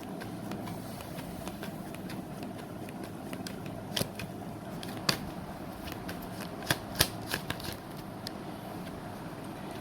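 Tarot cards shuffled by hand in a steady, soft riffling rustle that runs the whole length, with a few sharper card slaps and snaps standing out near the end; no talking.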